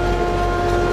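A train runs in Oddworld: Soulstorm with a loud, steady mechanical drone and constant tonal hum, a short unbroken stretch with no talk.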